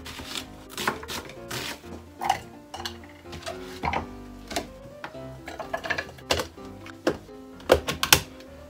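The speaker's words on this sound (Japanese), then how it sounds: "一応細かく切ります。" A knife roughly chopping hamburger ingredients on a cutting board in a home kitchen, giving a steady run of sharp, close taps with brief pauses, heard alone with no talking.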